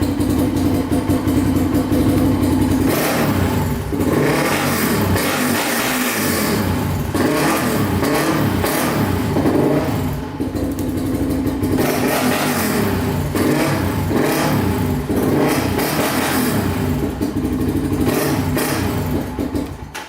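A motorcycle engine with a problem that makes it stall in first gear idles steadily, then revs up and down in repeated throttle blips, loud and close throughout with no talking.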